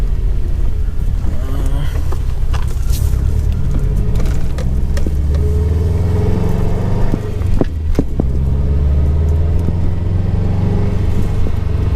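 A 2017 Subaru WRX STI with a Mapperformance stage 2 tune driving on the road, heard from inside as a loud, steady low engine drone and road rumble with wind noise and occasional knocks.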